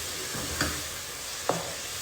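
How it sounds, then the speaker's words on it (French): Shorba soup sizzling in a pot while being stirred, a steady frying hiss throughout with two brief scraping clicks of the spoon, close and alone without speech. "Je mélange comme ça."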